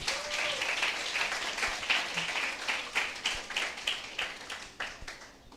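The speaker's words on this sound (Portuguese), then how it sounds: "Parabéns, palmas!" Audience applause at a university accounting-week certificate ceremony, a dense burst of clapping that thins toward the end into separate rhythmic claps, moderately distant, with no talk over it.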